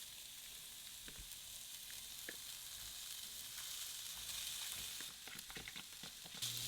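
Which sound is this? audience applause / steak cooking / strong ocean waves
steak cooking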